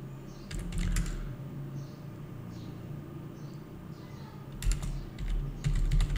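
Fingers type on a computer keyboard in short bursts of quick, close clicks separated by pauses, over a low steady room hum.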